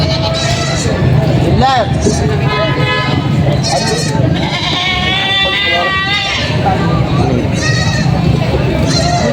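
Goats bleating at a livestock market among fullblood Boer goats, several loud nearby bleats rising over constant crowd chatter and people talking.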